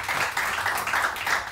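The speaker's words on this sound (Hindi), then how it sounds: "बहुत सारी तालियां नुसरत के लिए" Studio audience on a Pakistani morning TV show breaks into steady, dense applause that stays fairly loud and even from start to finish, with no voice on top.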